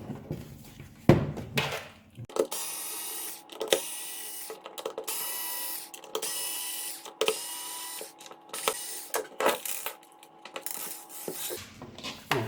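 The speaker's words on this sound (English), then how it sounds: "We have 6 screws that we need to unscrew and reveal the internals of this charger." Screws are backed out of a Parkside dual quick battery charger casing, heard as repeated close, rhythmic scraping and ratcheting bursts separated by short pauses.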